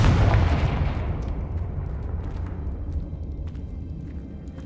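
A Confringo blasting spell detonates in the Hogwarts Legacy video game, a heavy explosion already underway that rumbles and slowly fades over a few seconds, with faint crackles in the tail.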